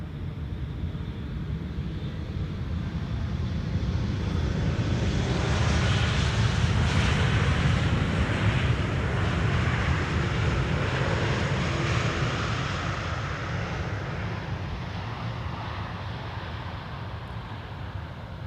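Boeing 777-200 airliner arriving on the Polderbaan runway at Schiphol, a broad roaring jet rumble that swells to a peak midway and slowly fades as it passes, loud and continuous with no speech.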